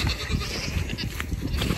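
A baby goat bleats close by, a few short wavering cries over a rough, noisy background, with no one speaking.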